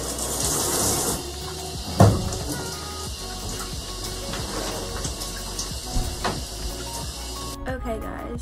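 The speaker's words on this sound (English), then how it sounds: "So I'm rinsing it out now." Shower water runs steadily while someone rinses off, a constant close hiss with small splashes and a brief knock, ending abruptly as the flow stops.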